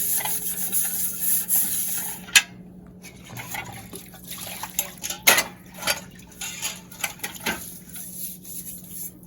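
Dishes, pots and utensils are washed at a sink, with steady running water, scraping and clinking of steel vessels and a sharp clatter partway through, close and fairly loud with no talking.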